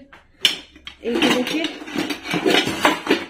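Metal burner plates of a gas stove set back in place after cleaning, giving several close clanks and clatters of metal on metal in a home kitchen.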